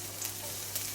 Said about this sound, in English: we're gonna stir fry garlic